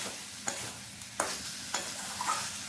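Potato and jackfruit being stir-fried in spice paste in a pan, with a steady soft sizzle and a few sharp spatula scrapes and knocks spaced about half a second apart, close by and fairly quiet.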